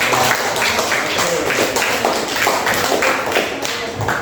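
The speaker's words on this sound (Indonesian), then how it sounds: "tepuk tangan untuk semuanya" A group claps together at a school teachers' competition event, producing a dense, fairly loud patter of hand claps with rhythmic surges that continues steadily for several seconds.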